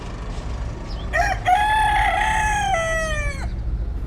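A rooster crows one long, loud cock-a-doodle-doo, starting with a short rising note and then holding a sustained tone that drops at the end, alone against steady low background noise.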